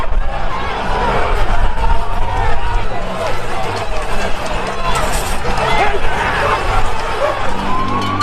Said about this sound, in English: is the crowd of thousands overwhelming police